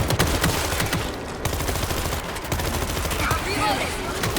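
Rapid bursts of gunfire from the zombie shooter World War Z, dense and continuous through the clip, layered with game effects and a voice talking over it.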